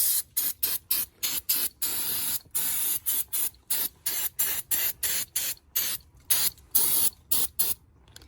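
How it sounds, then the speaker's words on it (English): Brake cleaner sprays onto a Brembo brake caliper from a car being refinished, in a long series of loud, sharp hissing bursts separated by brief pauses, close to the microphone and with no talk. "Now we'll hit it with the brake cleaner."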